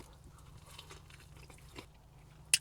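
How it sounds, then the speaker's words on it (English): Bites into a McDonald's Steakhouse Stack burger topped with crispy onions and red onions, giving soft, close chewing crunches and ending in one short, sharp crisp bite, with no talking. "you've got that crunch that goes on with it, while you also get a little bit of a crunch from the red onions as well"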